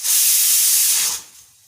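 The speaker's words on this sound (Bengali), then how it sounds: "আর এই যে ডাল সিটি পড়ছে" A pressure cooker whistles while dal cooks on the stove: one loud, steady steam hiss that holds for about a second, then cuts off sharply and leaves a faint residual hiss.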